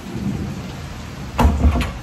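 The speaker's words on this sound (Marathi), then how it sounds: "पाऊस आलेला आहे" Heavy rain with thunder and strong wind battering a village house on its east side during a power cut, a steady wash of rain and wind broken near the end by two louder low thunder rumbles.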